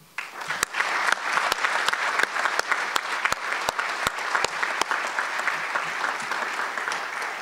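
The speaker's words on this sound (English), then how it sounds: "I would like to ask the audience if at this time you could join me in a round of applause" An audience at an honors convocation breaks into steady applause, many hands clapping densely and continuously from near and far, with a few louder close claps standing out, then slowly thinning toward the end.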